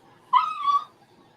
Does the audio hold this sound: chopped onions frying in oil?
no